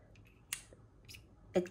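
A few sharp, quiet clicks, spaced apart in a hushed room, like a pen's button being pressed.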